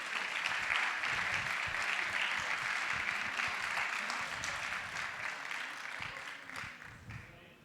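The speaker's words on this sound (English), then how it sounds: "Okay, big round of applause for him." An auditorium crowd at a games-day event applauds a prize-draw winner called to the stage. The clapping is dense and sustained, with some low murmuring underneath, and it fades gradually toward the end.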